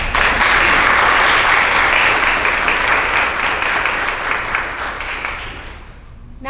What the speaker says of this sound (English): Please help me and give all of our staff and providers a round of applause.